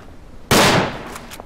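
A single sharp Lee Enfield rifle shot cracks out in a video game, loud and sudden after quiet, with a decaying tail and faint echoes trailing it.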